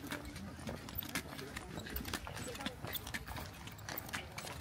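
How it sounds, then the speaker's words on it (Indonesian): A horse walks at a ranch in Pangalengan, its hooves clip-clopping in a quiet, irregular series of sharp taps under steady background murmur and faint voices. "kita persiapan naik kuda dulu ya"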